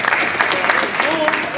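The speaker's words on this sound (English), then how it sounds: "Round of applause." An audience claps in a school gym during a talk to a basketball team, a fairly loud, dense patter lasting the whole stretch with some voices mixed in.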